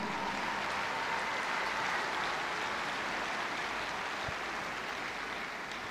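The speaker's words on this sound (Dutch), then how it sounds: "Ik denk dat die toch een extra applaus verdienen van u." Sustained crowd applause from grandstand spectators at a drum band event, an even wash of clapping that holds steady and fairly distant for the whole stretch.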